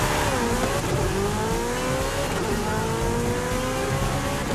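A Porsche 918 hypercar accelerates hard from a launch in Forza Horizon 5, its engine revving loud and close with rising harmonic pitch sweeps as it climbs through gear changes, steady and unbroken with no talking.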